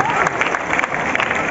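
A crowd at a recognition ceremony in Patna's Gandhi Maidan claps loudly in a dense, continuous burst, with voices mixed in.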